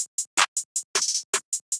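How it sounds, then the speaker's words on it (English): Snare pattern from a GG Section 8 kit in a dark trap beat: crisp, bright snare hits spaced in a quick rhythm, with one short rapid roll of several hits in the middle, playing alone. "the snare pattern is sounding like this"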